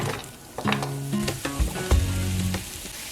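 Sliced onion and mushrooms dropped into a pan with olive oil, sizzling and crackling loudly up close, with a few clinks and scrapes of a utensil stirring over the steady frying hiss.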